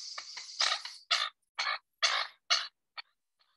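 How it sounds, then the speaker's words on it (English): A pair of American coots at a park near Chicago give a series of short, sharp, close calls, about eight bursts in quick succession that fade toward the end. "This is a pair of American coots."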